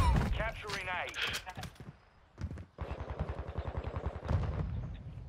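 Gunfire in a ranked online shooter game: a rapid automatic burst of evenly spaced shots, close and loud, after a few scattered single cracks, with players talking over the start.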